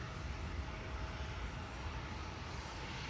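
A KLM airliner bound for Bordeaux climbs out of Amsterdam Schiphol with a broad, steady engine roar, fairly distant and even in level for the whole stretch, with no talking.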